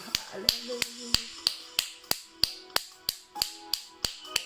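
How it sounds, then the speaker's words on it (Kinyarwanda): A church congregation claps in praise to God in a steady, even rhythm, about three sharp claps per second, loud and close, with faint voices underneath. "Reka dukomere Imana amashyi"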